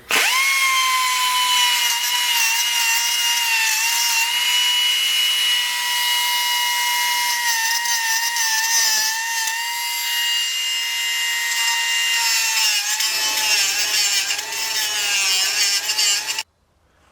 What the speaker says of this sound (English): I'm just using this here to clean them up. It's just a little cutoff wheel.